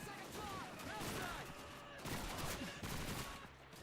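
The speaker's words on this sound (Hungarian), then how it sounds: "honnan lőnek ezek ilyen sebességgel" Rapid gunfire from a World War II first-person shooter, Call of Duty 2, rattles almost continuously in dense bursts under a steady wash of battle noise, fairly faint overall.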